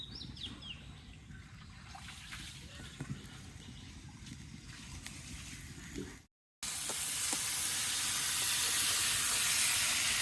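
Meat frying in a pan for a curry, giving a steady close sizzle and hiss that cuts out briefly, then returns louder and brighter as more meat hits the hot oil.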